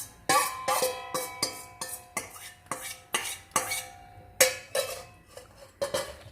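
Pizza dough being mixed with olive oil in a bowl, giving a run of sharp, close clinks and knocks of utensil against the bowl at a fairly steady rhythm, with no talk.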